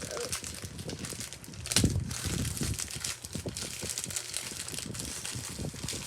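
Funko Soda packaging is ripped open up close: crinkling and tearing of cardboard and plastic in quick bursts, with one louder rip partway through, fairly quiet overall.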